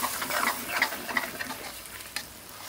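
Ripe vine tomatoes dropping into onion and spices frying in a pan for a curry sauce, giving a steady soft sizzle broken by small pops and brief stirring scrapes.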